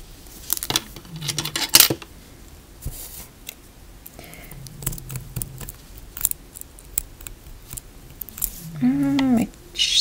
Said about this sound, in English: My scissors are not very sharp.